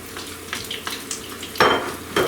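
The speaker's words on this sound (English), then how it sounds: "You hear it sizzling? You're just going to keep breaking it up and moving it around." Crumbled sausage frying in a pan while a wooden spoon breaks it up and stirs, a close hiss of sizzling punctuated by brief scraping strokes and a louder burst near the end.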